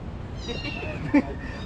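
A cat meows once, short and fairly close, in a small shop or workshop where motorcycles are repaired, with a faint background hum and no clear talk.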